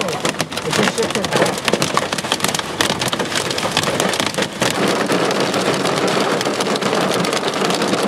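Heavy rain pours down steadily during a microburst storm in Norman, Oklahoma, with gusting, shifting wind roaring loudly throughout and a voice briefly speaking over it.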